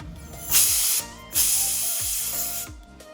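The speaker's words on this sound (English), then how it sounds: "you're gonna wanna take your canned air or your compressed air" Canned compressed air blasting dust out of a Roccat mouse scroll wheel, two loud hissing bursts up close, each about half a second to over a second long, separated by short pauses.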